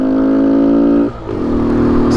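A used green 2017 Kawasaki Z125 motorcycle with a custom exhaust rides by loudly, its engine droning steadily, dipping briefly as it shifts, then pulling again, close and alone.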